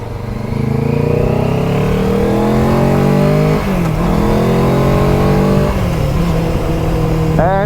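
A MITT GT-K Traveller mid-size touring motorcycle of about 48 horsepower accelerates hard, its loud engine note climbing through the gears with clear shift drops around the fourth and sixth seconds, close and steady throughout.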